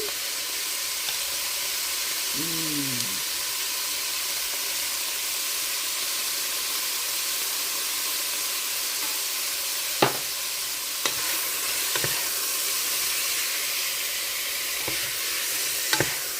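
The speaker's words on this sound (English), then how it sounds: "If you cook up the spices a little bit, it helps with the flavor." Cumin and other spices sizzle steadily in a hot pan for a pork green chili, a constant frying hiss with a few brief clinks and stirs near the end.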